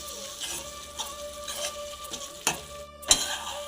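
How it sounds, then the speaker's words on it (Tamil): Ground masala sautéing in a pan for country chicken curry, a soft ongoing sizzle with scraping and stirring taps and a couple of sharper clanks of a spoon against the pan. "இருந்தாலும் ஒரு 5 நிமிஷத்துக்கு வதக்க விடலாம்"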